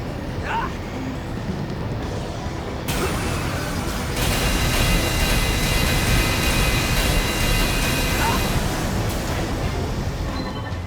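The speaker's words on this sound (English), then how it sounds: "The transport aircraft have begun their takeoff sequence." Transport aircraft taking off in the video game Daemon X Machina, a steady loud broadband engine roar that swells partway through and holds, with game voices speaking over it.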